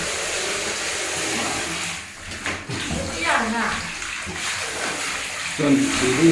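Water splashes and pours while a pig is bathed, a continuous wet rushing and sloshing close by, with someone talking over it.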